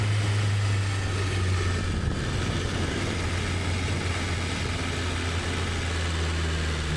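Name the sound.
BMW S1000RR motorcycle engine vibrating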